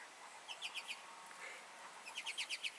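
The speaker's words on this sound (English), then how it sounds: "there's a bird on a bird feeder right now, not apparently too afraid of the human sitting here talking" Small bird at an outdoor feeder chirping in two quick rhythmic series of high tweets, faint and somewhat distant over a steady background hiss.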